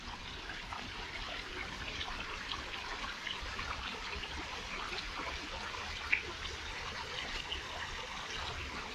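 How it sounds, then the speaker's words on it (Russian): Water continuously circulating through a thermal pool and trickling slowly out of it, a soft, steady distant babble with a faint hiss and one small splash or click, no speech. "вода все время циркулирует. То есть там наливается, тут она выливается потихоньку."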